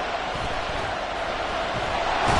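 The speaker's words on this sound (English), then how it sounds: "This crowd urging on their defense." A football stadium crowd roars steadily in a broad, continuous wash of noise, urging on the defense and swelling slightly at the end.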